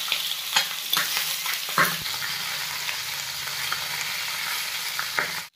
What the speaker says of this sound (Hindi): तो गाइस, आज चिकन फीट को फ्राई करेंगे।